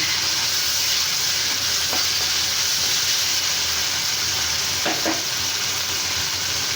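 Ash gourd peel fries with green chili, garlic and ginger in a loud, continuous close sizzle, with a couple of brief stirring scrapes.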